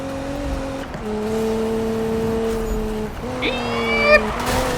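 Nissan GT-R engine in the Need for Speed (2016) racing game climbs steadily in pitch through the gears with brief shift dips, a sustained near, moderately loud drone under a short higher whine near the end; a voice talks over it.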